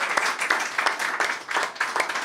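Applause from a small audience at a live music show with a floor spot, scattered individual claps with sharp transients rising and falling over a couple of seconds, fairly close and steady, no talking over it.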